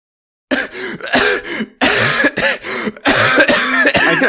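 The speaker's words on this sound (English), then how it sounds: "It triggered a coughing fit." Several harsh, broadband coughs in rapid bursts, close and loud, with short gaps between them.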